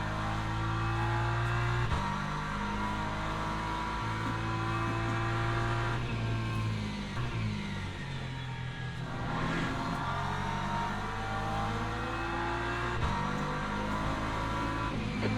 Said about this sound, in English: Okay, Angus, there's a faster class car approaching